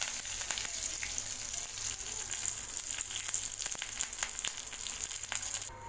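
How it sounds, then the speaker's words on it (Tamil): Mustard seeds and urad dal sizzle in hot oil as a tempering for brinjal chutney, a steady close frying hiss dotted with sharp pops and crackles throughout. "கடுகு பொரியும் போது இதில் கொஞ்சமாக உளுந்தம் பருப்பு ஆட் பண்ணிக்கோங்க"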